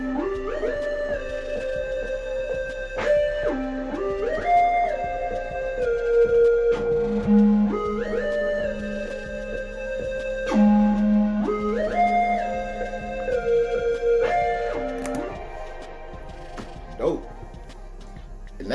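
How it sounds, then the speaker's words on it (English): Flute melody with a short counter line in a Memphis-type hip-hop beat, sustained breathy tones sliding between held pitches over a steady backing, loud and continuous with no voices. "I added some flutes, which sounds like this."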